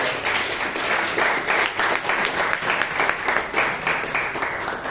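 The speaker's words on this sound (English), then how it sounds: "applause to her" Dense, steady applause from a Toastmasters meeting audience in Bangalore, many hands clapping at once and filling the room at an even, sustained level for several seconds with no voices over it.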